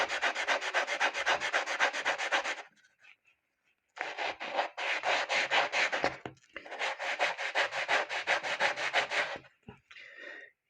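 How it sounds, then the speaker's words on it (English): A Timex watch case back rubbed on emery cloth, giving steady abrasive scraping strokes in two long bursts with a short pause between, close and fairly loud, with no talking. "So you just place the case back on the emery cloth to start with"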